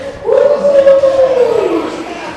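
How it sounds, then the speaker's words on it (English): A large, excited crowd fills a gaming convention hall at AGE Con 2023, a steady roar of overlapping voices with one drawn-out shout or cheer rising above the din. "definitely it's getting loud, and there's a crowd building up behind us"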